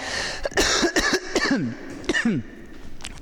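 Several harsh coughs in quick succession from someone close by, with short rasping bursts and brief pauses between them.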